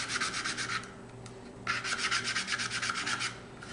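Quick back-and-forth strokes of a wooden sanding block rasp across wood in a steady rhythm while shaping a turkey call, with one short pause. Close and fairly quiet.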